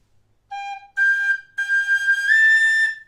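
A tunable high D session-style tin whistle plays a few clear, bright sustained notes in short phrases with brief gaps, close and fairly loud, with no other sounds.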